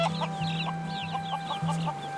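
Domesticated chickens on Kauai cluck in a steady series of short, close calls over a constant low hum, with no voices present.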